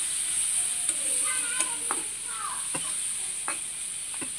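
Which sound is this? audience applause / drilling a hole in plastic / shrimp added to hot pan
shrimp added to hot pan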